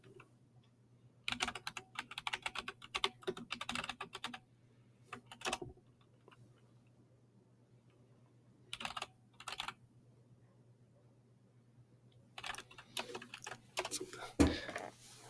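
Typing on a computer keyboard comes in short clusters of quick clicking keystrokes separated by quiet gaps, close and faint, over a low steady hum.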